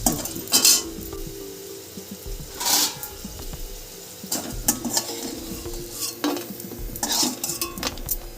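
Chopped onion fries in hot mustard oil, crackling and sizzling up close while a spatula repeatedly stirs and scrapes against the pan in uneven bursts.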